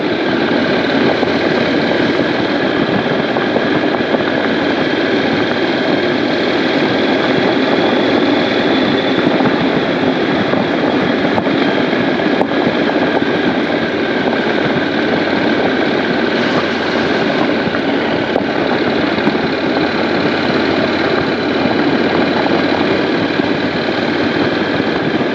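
A very quiet 2015 Honda NC700X motorcycle engine runs steadily on stock muffler, a constant broadband rumble mixed with wind and road noise, loud and unbroken with no talking.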